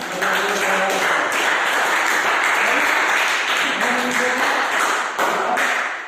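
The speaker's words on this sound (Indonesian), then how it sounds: "kita berikan tepuk tangan." A class gives a round of applause during a religious-education lesson: sustained, loud, close clapping from many hands filling the room, with voices mixed underneath.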